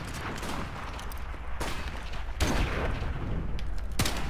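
Gunshots in a first-person shooter video game, a 1v1 match with M40 rifles and ACOG scopes, heard as a few sharp cracks amid a dense, noisy background of game sound.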